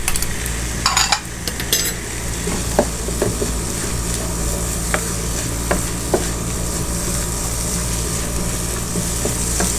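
Capsicum, peas, sweet corn and green chili frying in a pan for Indian-style macaroni, with a steady close sizzle under sharp scrapes and clinks of a spoon stirring against the metal.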